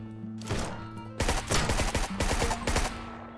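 Rapid bursts of gunfire from the zombie survival game Surroundead, loud and close, with a single shot followed by clustered volleys of sharp cracks and a low droning hum underneath.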